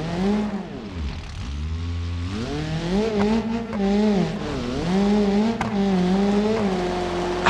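A car in the BeamNG.Drive video game skids and slides across a rocky stone course, its engine note rising and falling in steady waves as it is thrown side to side. The sound is loud and continuous, with no talking.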